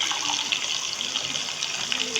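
Water pours steadily into mutton pulao masala in a cooking pot, a close, continuous gushing splash that stays loud and even throughout.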